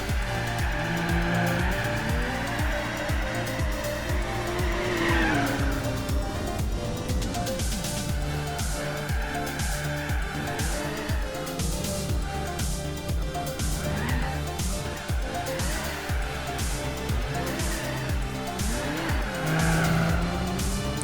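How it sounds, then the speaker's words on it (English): A Nissan Skyline in Gran Turismo 4 slides through tight corners with repeated tire squeals over a continuous loud engine roar that rises and falls with gear changes, close and steady throughout. "It's just fun sliding around those tight corners in this thing."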